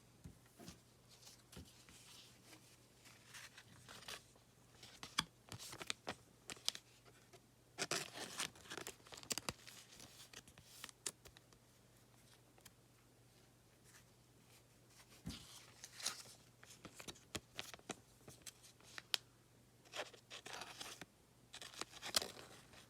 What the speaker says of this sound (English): I'm going to sleeve up these Slam cards too.